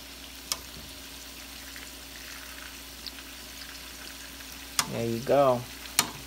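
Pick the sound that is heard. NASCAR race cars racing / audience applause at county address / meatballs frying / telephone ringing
meatballs frying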